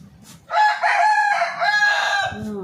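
A rooster crows once, loud and close, in a long drawn-out cock-a-doodle-doo lasting about two seconds, with faint household sounds before and after.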